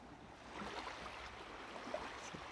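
Sea waves washing steadily in a soft, continuous hiss and rush, heard alone at a low, even level with no distinct breaks.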